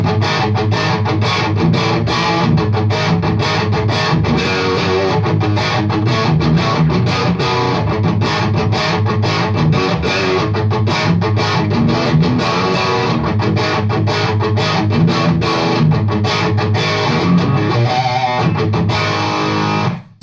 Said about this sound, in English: you're getting that kind of nice crunchy but like metal-y overdrive tone.